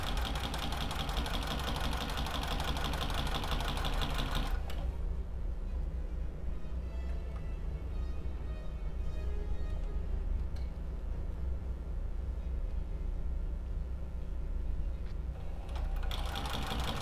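A sewing machine stitches fabric at a 2.5 stitch length, running in fast, loud, steady bursts, then pauses into quieter handling noise before starting up again near the end.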